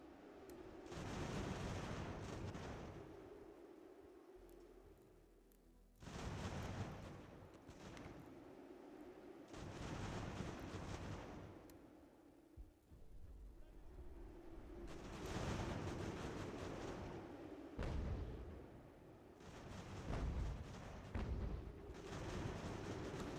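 Cannon artillery in the Ultimate General: American Revolution strategy game booms in repeated heavy volleys, each blast followed by a rumbling roll, spaced several seconds apart and fairly faint overall.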